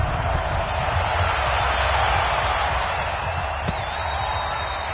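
Steady stadium crowd roar from an NFL video game on PS4, New York Giants versus Dallas Cowboys, a continuous loud wash of cheering with faint thuds underneath and a brief whistle-like tone near the end.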